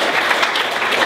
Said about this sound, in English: I want a big round of applause for Kevin Boyd